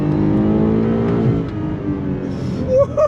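The engine of a 2022 BMW M5 CS accelerates hard on throttle, a loud rising drone that swells and then eases off within a few seconds.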